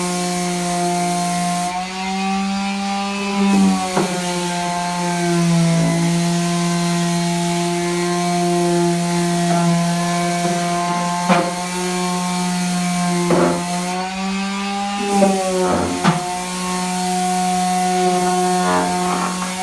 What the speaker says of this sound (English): So let me start sanding the steps here.